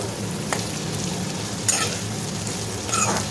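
Onions sizzling in sesame oil in a pan for bitter gourd gravy, a steady close frying hiss with a few brief scraping stirs, no voices.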